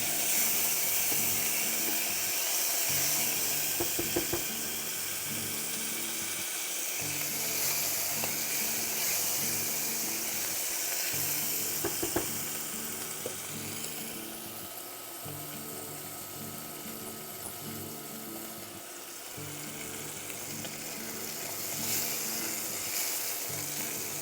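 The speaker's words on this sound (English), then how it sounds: "my objective here is to cook the bacon just until it's brown" Bacon cooking in a pan until brown, a steady broadband sizzle and crackle with a faint periodic low hum underneath, continuous and fairly close throughout with no talking.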